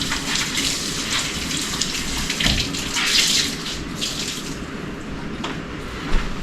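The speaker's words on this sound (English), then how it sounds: "I'm rinsing this cleaning cloth." Tap water runs steadily over a cleaning cloth being rinsed at a home kitchen sink, a continuous gushing splash with uneven surges and spatters throughout, close and fairly loud.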